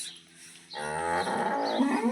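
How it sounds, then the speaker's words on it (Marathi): A newly bought cow lows once, a loud, close, drawn-out moo that starts partway in and carries to the end with a rising, strained tone. "आणि इकडं आहे आपली नवीन गाय"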